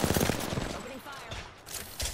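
Gunfire in the Apex Legends video game, a dense burst of rapid shots up close over the first second, then fainter scattered shots mixed with game noise.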